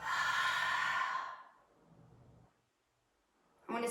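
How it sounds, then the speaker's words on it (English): A long, breathy exhale out through the mouth during a workout breathing exercise, close and loud, fading into a quiet pause before a fresh breath starts at the end. "Exhale out your mouth."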